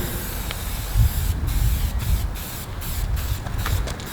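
Molotow spray paint hissing from an aerosol can while painting a graffiti piece, a steady broadband spray with a few short pauses between bursts, close and fairly loud.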